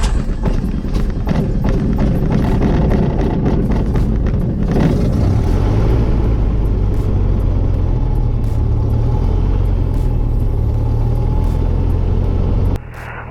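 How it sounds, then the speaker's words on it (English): Cessna light aircraft engine taxiing from the upper ramp toward runway 24, a loud close droning rumble with a rattling pulse that stays steady throughout, then drops abruptly near the end. "Cessna 717 Golf, taxiing from the upper ramp for runway 24"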